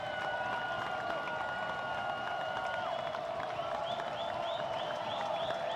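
A college baseball crowd at Pete Taylor Park cheers and applauds in a steady, distant roar with scattered whoops and whistles rising above it throughout.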